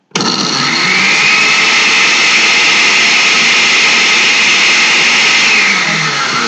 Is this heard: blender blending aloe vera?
yes